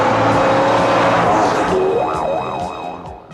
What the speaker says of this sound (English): That Bonnie and Clyde car chase, it's long.